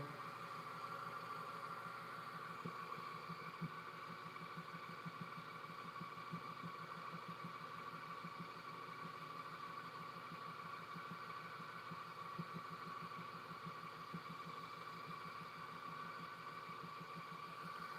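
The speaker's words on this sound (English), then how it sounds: "Can y'all hear the lathe spinning right now?" A wood lathe spins steadily at high speed, giving a quiet continuous hum with a faint rhythmic pulsing throughout, with no talk heard.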